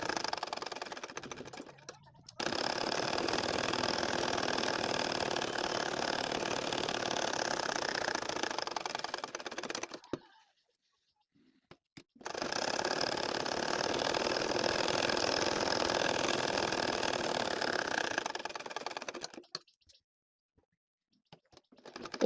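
Sewing machine stitching curved lines through a two-layer nakshi kantha quilt with doubled thread, running in two long steady whirring bursts of about eight seconds each, separated by a short pause and ending in quiet.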